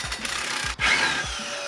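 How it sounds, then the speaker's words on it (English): A tool works an 18mm bolt and nut loose on a car's suspension arm, with close rhythmic scraping and ratcheting strokes and a brief grinding rasp, loud with no talk. "Now we'll need to remove this 18mm bolt right here and an 18mm nut on the other"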